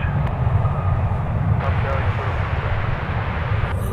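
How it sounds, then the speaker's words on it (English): A Delta Airbus A321 jet lands at Minneapolis–St. Paul airport. Its loud, steady engine roar fills the whole stretch without letup. "And our arrival that just touched down is from Salt Lake City, Delta Flight 2916 and A321."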